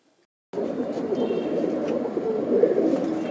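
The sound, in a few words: pigeon cooing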